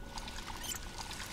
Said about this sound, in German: Kannst du das beides mit Wasser befüllen?